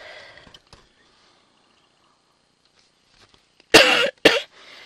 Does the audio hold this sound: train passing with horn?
no